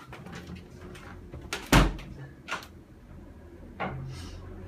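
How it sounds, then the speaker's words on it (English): A door swung shut indoors in a quiet room, giving one sharp thud followed by a couple of softer knocks and rattles, with no talking. "I'm gonna close the door"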